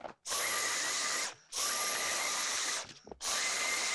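A power tool trims the pile of a finished tufted rug with an alien head design, whirring loudly in three steady bursts separated by brief pauses, with no talking.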